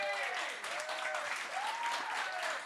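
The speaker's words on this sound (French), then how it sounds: "on applaudit Thomas" An audience applauds Thomas Levac at a French-language comedy show, a dense sustained clapping that holds steady for the whole stretch with a few voices calling out faintly above it.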